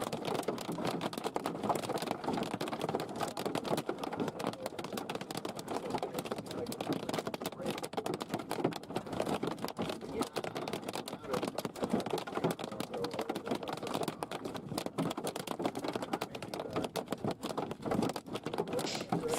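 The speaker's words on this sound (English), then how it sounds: "You can barely even hear them. The hail is just too loud." Hail pelts a car driving through a storm's hail core, a dense, continuous rattle of small impacts drumming on the roof and glass, loud and unbroken throughout.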